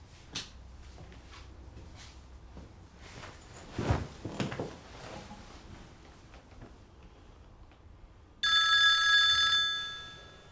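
An old-style telephone bell rings loudly in a sustained trill near the end, after quieter indoor handling noises such as drawers or cupboards opening and closing.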